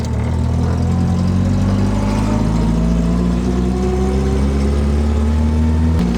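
A Simca 5 car engine runs steadily and loudly close by, its low, continuous drone rising in pitch as it accelerates, with no voices over it.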